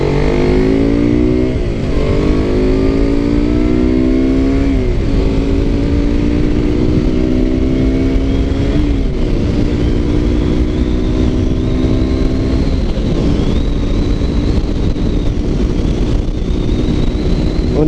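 A KTM RC 125 motorcycle fitted with a Radical Racing exhaust revs loudly and close, its pitch climbing in several repeated pulls with brief drops between them, a steady raspy engine roar throughout.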